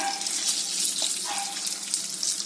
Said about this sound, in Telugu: మ్యారినేషన్ చేసుకున్న ఈ చికెన్ని ఇందులో వేసుకుందాం. దీన్ని ఫ్రై చేసుకుందాం.